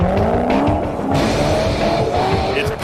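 A car races hard downhill on a gravel course, its engine roaring loud and close with a steady strain and tyres scrabbling over loose stones, plus a brief skid-like squeal.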